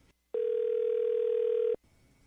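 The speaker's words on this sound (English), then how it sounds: "The phone's ringing." A telephone gives a single steady electronic tone, loud and close, holding for about a second and a half before cutting off sharply into quiet room sound.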